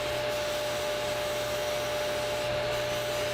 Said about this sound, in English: I'm going to use my belt grinder to carefully sand to the line